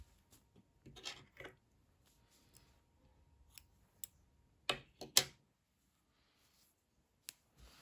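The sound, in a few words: scissors cutting knitting yarn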